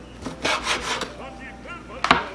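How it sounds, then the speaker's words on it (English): A knife slices cleaned squid tubes into half-inch rings on a cutting board, making a few soft, close thumps and brief scraping strokes in a quiet kitchen. "Next, you're going to want to cut the tubes into about 1/2 inch wide rings."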